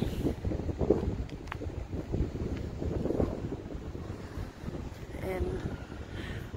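Gusty wind buffets the microphone beside a lake in Reston, a rough low rumble that swells and fades under a person's talking.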